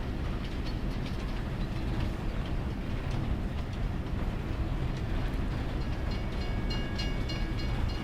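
A train rolls along rails in the Farming Simulator 22 video game, a steady, loud rumble with faint clatter carrying on alone throughout.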